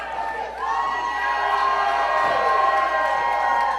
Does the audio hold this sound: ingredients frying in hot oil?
no